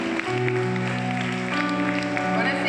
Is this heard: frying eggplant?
no